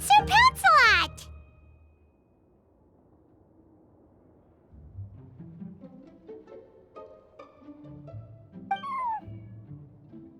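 A cat meows in Genshin Impact: a loud, bright meow at the start, then a quieter mew near the end, with soft game music between them.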